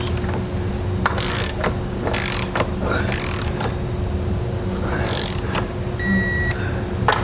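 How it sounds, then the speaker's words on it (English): Ratcheting socket wrench tightening and torquing trailer hitch bolts with a 3/4 inch socket under a 2019 Toyota Highlander, a series of short clicking ratchet bursts over a steady low hum, fairly close. "with a 3/4 inch socket, you're going to tighten and then torque all of your hardware"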